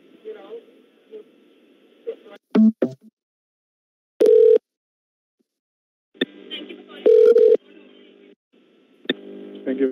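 A telephone line sounds repeated short electronic tones during a relentless redial of a phone support call, with brief steady beeps separated by silences and bursts of conversation between them.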